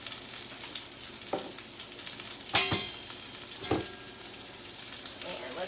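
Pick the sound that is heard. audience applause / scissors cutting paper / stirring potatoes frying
stirring potatoes frying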